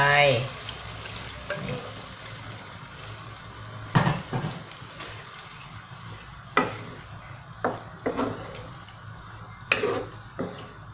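Pork curry with noni leaves sizzles in a pan as boxed coconut milk goes in, with a steady low frying hiss broken by several sharp scraping and clattering stirs from a utensil against the pan.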